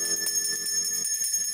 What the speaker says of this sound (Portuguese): Tocar o sino para ver o que acontecia.